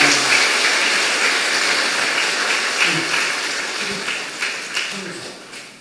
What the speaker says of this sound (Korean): 박수를 나누겠습니다